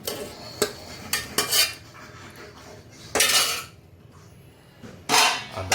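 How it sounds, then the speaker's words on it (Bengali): Fried potatoes go into a pan of mutton curry and a metal spoon stirs them in, a few sharp clanks and scrapes against the pot in short bursts separated by quieter pauses. "এই চলে গেল আমাদের আলু।"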